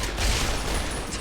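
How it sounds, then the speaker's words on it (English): Explosion in Fallout: New Vegas, a loud, dense burst of rumbling crackle with heavy low end that sustains throughout a brief moment. "The explosion."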